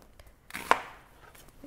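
A knife cuts through an onion on a cutting board in a single close, crisp chop that rings out briefly in an otherwise quiet kitchen.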